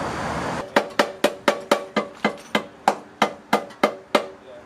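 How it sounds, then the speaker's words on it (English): A hammer bangs out the fender area of a BMW E46 sedan in a steady run of about a dozen sharp metallic blows, close and loud, each strike ringing briefly before the next. "we're going to bang it out and make sure either it's flat or it's at least out of the way"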